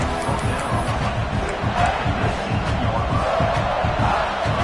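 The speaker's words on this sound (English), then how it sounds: "This crowd knows when to bring it." A stadium crowd in a college football video game roars steadily throughout, a loud, dense wall of cheering and shouting during an Alabama drive in the red zone.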